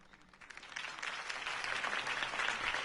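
A crowd applauding Harvey Dent's campaign speech in the Batman Telltale video game, clapping that swells from quiet to a full, steady, dense ovation with no talk over it.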